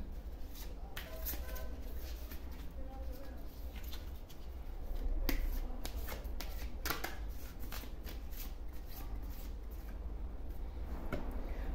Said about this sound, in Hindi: थोड़े से और कार्ड निकाल लेती हूँ।